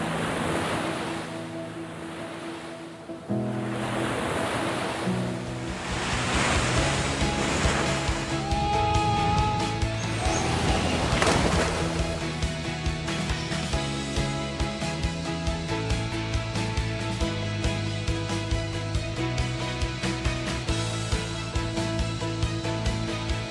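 Ocean surf at the Taiwan Open of Surfing, with waves breaking and washing in a steady, loud roar that lasts throughout, mixed with wind noise.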